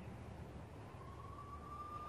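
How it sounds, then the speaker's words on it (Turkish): Police sirens wailing in the Max Payne game, heard as a steady distant tone rising slowly above a dense bed of city noise, no talking. "I could hear the sirens. Their wail was a crescendo."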